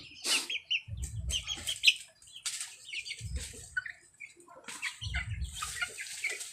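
Darag native chickens in a rural pen, soft clucks and chirps scattered throughout with three bursts of wing flapping, fairly close.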